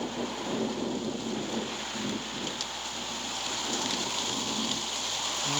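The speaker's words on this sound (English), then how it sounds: "What's with all the rain?" Steady rain falls continuously, a dense hiss with low rumbles of thunder underneath, constant and moderately loud throughout, with no voices.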